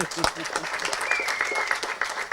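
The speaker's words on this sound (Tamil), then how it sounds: "அவருக்கு ஒரு கைத்தட்டல் கொடுக்கலாம்" Scattered clapping from a crowd at a press meet, fairly quiet, with talking mixed in over the applause.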